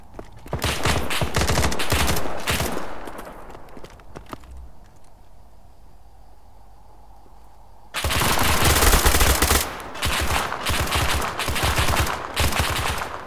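Full-auto gunfire in a shooter video game, loud and close, with rapid bursts that pause briefly before a heavy burst resumes.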